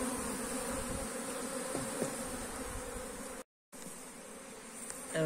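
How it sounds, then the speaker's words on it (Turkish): Honeybees drone continuously at a hive entrance fitted with a pollen trap. The hum is steady and moderately close, with a brief gap in the middle. "Bak şimdi şurada polenli bir arı buradan geçti."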